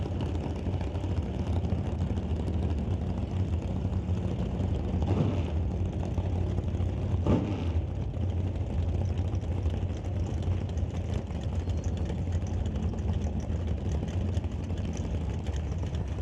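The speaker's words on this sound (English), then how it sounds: "Hear him clearing out the motor after he backs up from the burnout supercharged machine" At a drag strip, the supercharged engine of a 1948 Austin drag car blips and clears out after a burnout. It is a distant, low rumbling roar over steady background noise, with a couple of sharper revs.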